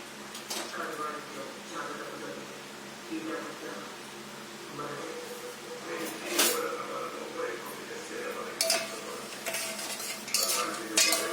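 Sugar stirred in a pan until it dissolves for gulab jamun syrup: a spoon scrapes and clinks against the metal pan continuously at close range, with occasional louder knocks, while a voice talks over it.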